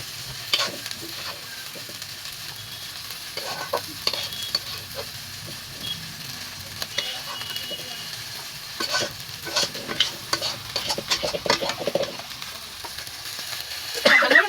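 Loitta fish mashed with potato being stirred in a pan, with irregular scraping and clattering spoon strokes over a soft continuous sizzle, fairly close and without talk.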